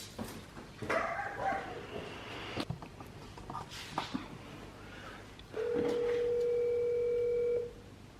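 Indoors, a dog lets out a few scattered, sharp barks over background noise. A steady telephone ringing tone follows.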